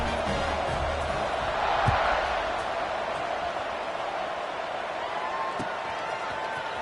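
A stadium crowd at a football game roars steadily as the kickoff approaches, a dense sustained wall of cheering with a brief swell near the start, loud and continuous throughout.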